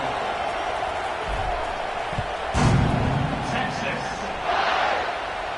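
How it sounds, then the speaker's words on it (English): A stadium crowd in the College Football 26 video game buzzes steadily, swelling into a loud roar partway through and again near the end, with commentary talk running alongside. "this crowd is buzzing after that last score"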